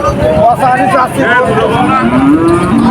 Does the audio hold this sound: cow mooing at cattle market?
yes